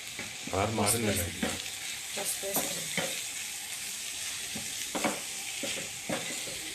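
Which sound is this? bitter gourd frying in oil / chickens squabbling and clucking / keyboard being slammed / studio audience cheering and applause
bitter gourd frying in oil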